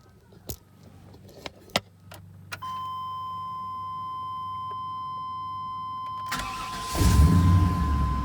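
A used truck engine starting up after a few clicks and clunks and a long steady electronic chime, then the engine catches and settles into a low rumbling idle, close by.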